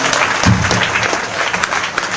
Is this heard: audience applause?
yes